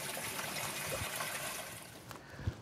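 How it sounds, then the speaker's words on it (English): Water flows steadily from an emergency eyewash station, a continuous soft trickling rush that stays even throughout with a small splash near the end. "Once you've started the water flow,"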